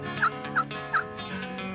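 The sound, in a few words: Rio Grande wild turkey gobbling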